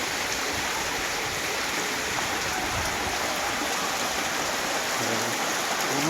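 Floodwater pours through a submerged village yard, a steady loud rushing and splashing wash of water that holds constant throughout, with no voices.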